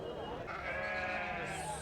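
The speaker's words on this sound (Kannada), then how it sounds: "ಇಲ್ಲಿ ಕೂಡ ಸಿಕ್ಕಾಪಟ್ಟೆ ಚೆನ್ನಾಗಿರುವಂಥ ಎಲ್ಲವೂ ಎಳಗ ಕುರಿ ಅದಾವ ನೋಡ್ರಿ, ಹೆಂಗುರಿ" Female sheep bleat at a sheep market, a short wavering call heard close under someone talking.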